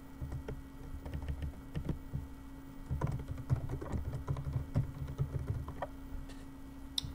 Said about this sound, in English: And in here you're going to type your name.